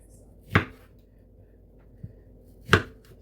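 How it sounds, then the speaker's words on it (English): Roasted tomatillos being chopped with a knife on a board, two sharp, close chops about two seconds apart with a faint tap between them. "So I'll get these chopped up"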